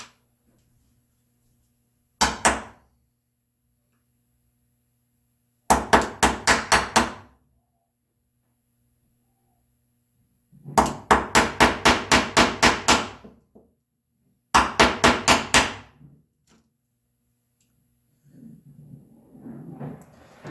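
Hand chisel chopping out walnut joinery for a bookcase side: four separate bursts of rapid mallet-driven blows, each a tight run of sharp, evenly spaced knocks, close and loud, with silence between bursts and a softer scraping at the end.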